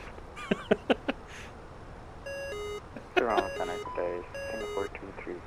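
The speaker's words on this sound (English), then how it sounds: "Beeping is not helping." Electronic warning beeps from a flight simulator cockpit sound in clustered tones partway through, with a few sharp clicks before them and speech running alongside.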